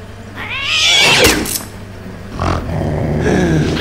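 A cartoon kitten lets out a loud, strained meow-like cry, followed by shorter grunting and growly sounds, close and alone.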